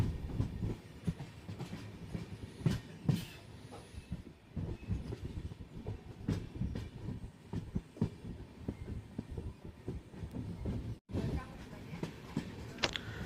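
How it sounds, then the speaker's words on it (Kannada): The Rani Chennamma Express pulls out of Gokak Road station, its wagons rolling with steady rhythmic clickety-clack and rumble close by, while people talk faintly in the background. "ಎರಡು ನಿಮಿಷ ಹಾಲ್ಟ್ ನಂತರ ನಮ್ಮ ಟ್ರೈನ್ ಗೋಕಾಕ್ ರೋಡ್ ರೈಲ್ವೆ ಸ್ಟೇಷನಿಂದ ಹೊರಟಿದೆ."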